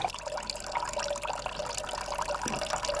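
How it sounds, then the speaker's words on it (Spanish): Water runs steadily out of the tube of a Florentine flask into a bucket during lavender distillation, a continuous close trickling splash with no talk. "el agua, que ocupa la parte inferior, sale por el tubo y se recoge en un cubo"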